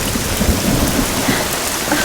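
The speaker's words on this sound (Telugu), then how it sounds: "అయ్యో వర్షం బాగా ఎక్కువగా కురుస్తుంది." Heavy rain beats down loudly and without a break, a thick roaring wash with rolling thunder rumbling underneath, no voices.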